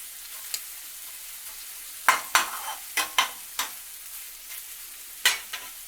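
Sliced garlic, about half a head, sizzles softly in a pan with shrimp while a utensil scrapes and stirs in several sharp, separate strokes over a quiet background.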